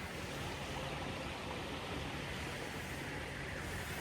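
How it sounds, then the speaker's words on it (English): Water trickling fast off the fields into a river along the left-hand bank where carp are fished, a steady, broad rushing wash that runs unbroken and fairly faint throughout, with no voices. "water trickling in there to me left hand side. I don't know if you can hear it, but it's coming in pretty fast off the fields"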